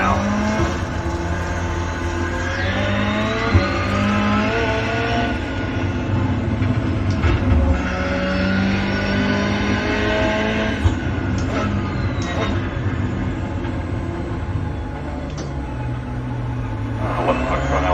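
A rallycross race car runs its joker lap, the engine droning steadily from inside the cockpit with shifting whining pitch sweeps, gear changes and rattling clunks over a constant rumble across the whole stretch, with no talk.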